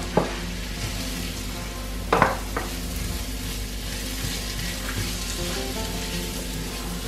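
Onions sizzle and fry slowly in a pan, a steady close crackle broken by a few soft clinks and taps of a utensil, with no talk.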